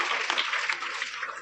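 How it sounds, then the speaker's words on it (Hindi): Applause from a school seminar audience, a brief burst of dense clapping that stays fairly even and tails off slightly toward the end. "जोरदार तालियां एक बार"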